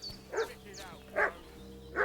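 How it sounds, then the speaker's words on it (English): A dog barks in the video game Kingdom Come: Deliverance 2, three short barks spaced evenly about a second apart, moderately loud over a low steady background hum. "What's that dog making such a fuss about?"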